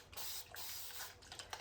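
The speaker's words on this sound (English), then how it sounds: "we're just going to give this a light spray" A light hiss of water misted from a spray bottle onto watercolour paper clipped down with bulldog clips, in several close bursts with short breaks between them.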